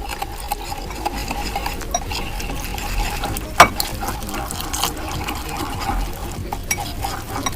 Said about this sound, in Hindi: इन सब चीज़ों को डाल के हमने अच्छी तरह मिक्स करना है, और फिर थोड़ा थोड़ा पानी हमने ऐड करते जाना है।